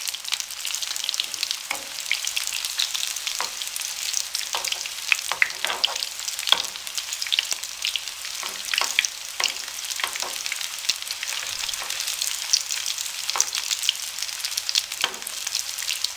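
Aloo bread rolls frying in hot oil over a medium flame give a steady, close sizzle with crackling bursts and occasional stirring noises, with no talking.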